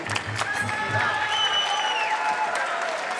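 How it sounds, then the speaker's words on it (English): A crowd in Padova, Italy applauds two fighters after a light heavyweight bout, a steady round of clapping heard under a commentator's voice, with a few low thumps at the start. "Both athletes receiving a nice round of applause here from the crowd in Padova, Italy"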